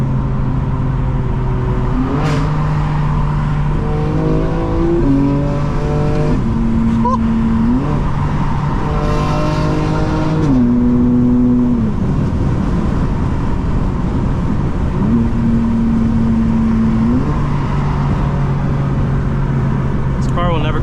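A 2024 BMW M4 Competition G82 accelerates through traffic, its engine climbing repeatedly through gears with stepped rising tones and brief shift drops, loud and close from inside the cabin across a long continuous run.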